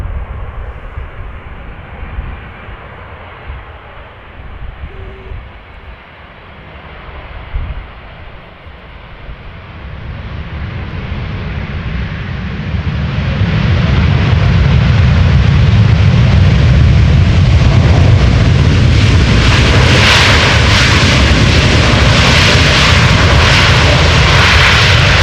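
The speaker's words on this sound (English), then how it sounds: "Pilot sure knows where to find the reverse thrust lever." A Boeing 747-400 of Suparna lands at Amsterdam Schiphol, its jet engines rising from a distant rumble to a loud, sustained roar of reverse thrust that holds steady to the end.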